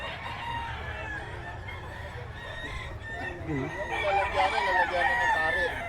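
Roosters crow and chickens cluck among the cages of a busy outdoor pet market in Bocaue, the calls thickening toward the end over a constant crowd murmur.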